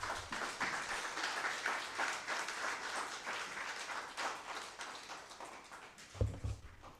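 Audience applause at a World Statistics Day event, a steady, moderately distant patter of many hands clapping that continues evenly, with a brief low thump near the end.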